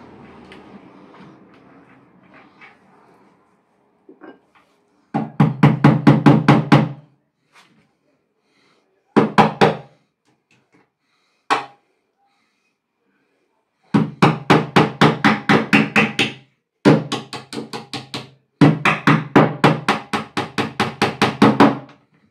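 A nail is driven into wood in a village house, with loud, close bursts of rapid, evenly spaced strikes separated by pauses of silence.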